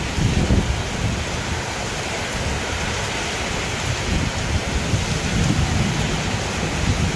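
A thunderstorm brings heavy, wind-driven rain in a loud, unbroken roar, with deep rolling thunder swelling beneath it near the start and again later; no voices are heard.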